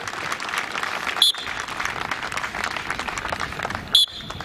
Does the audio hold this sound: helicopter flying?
no